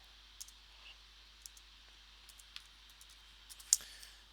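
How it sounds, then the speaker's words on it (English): Scattered soft key clicks come from a computer keyboard as a name is typed into a document header, quiet and irregular with a slightly louder tap near the end, in an otherwise hushed room. "I'm going to type in Miguel"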